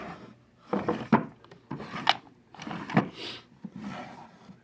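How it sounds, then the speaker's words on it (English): Small drawers on a Harbor Freight eight-drawer wooden machinist tool chest are slid in and out, a series of close, quiet wooden rubs and scrapes with light knocks. "And 6 of your small drawers here."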